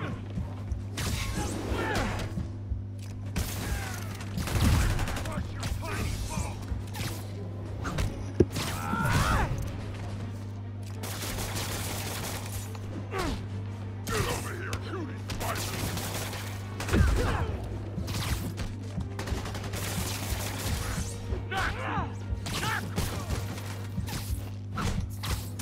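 Enemy gunfire in Marvel's Spider-Man game, a steady stream of shots and crashing impacts over a constant humming game soundtrack, with scattered voices across the fight.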